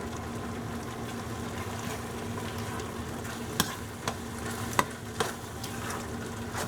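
Spices being stirred in a pan while cooking pav bhaji: a steady soft sizzle and scraping throughout, with a few sharp clinks of the spoon against the pan.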